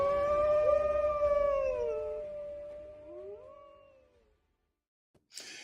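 A single wolf howl, long and gliding, rises then slowly falls and fades over several seconds, with faint background noise and a brief burst of hiss at the very end.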